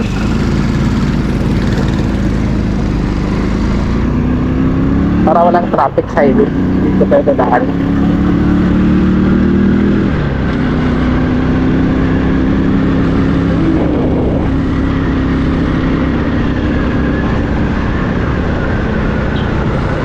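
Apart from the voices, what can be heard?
motorcycle riding on a back road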